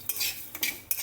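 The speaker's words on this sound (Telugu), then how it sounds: "ఆనియన్స్ అండ్ నువ్వులు మంచిగా ఫ్రై చేస్తుంది" Onions and sesame seeds frying in a pan give a soft sizzle while a utensil scrapes and stirs in three quick strokes, close and fairly quiet.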